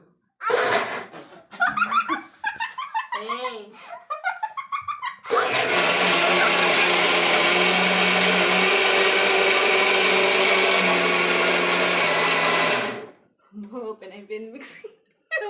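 A new mixer grinder whirs loudly for several seconds in a continuous high-pitched roar, with people talking before it starts and after it stops.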